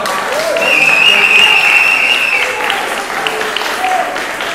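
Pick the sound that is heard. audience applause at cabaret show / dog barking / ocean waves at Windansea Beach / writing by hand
audience applause at cabaret show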